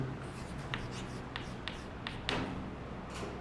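Chalk or marker scratches and taps across a board during a definite integration maths lecture, a series of short, crisp strokes near the listener, with no speech.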